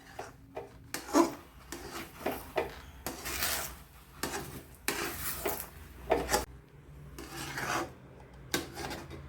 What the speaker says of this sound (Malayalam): ഇപ്പോൾ കുറച്ച് ഏലക്കാപ്പൊടിയും ചേർത്ത് ഇനി ഇതിനെ നല്ലതുപോലെ ഇളക്കി യോജിപ്പിക്കണം